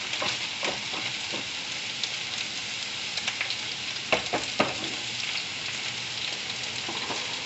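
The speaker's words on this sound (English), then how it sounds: "Next thing I'm gonna add in is the onions. I like my fried onions." Onions fry for an omelette in a hot pan, a steady close sizzle with soft crackles and a few louder stirring clatters partway through, no voices.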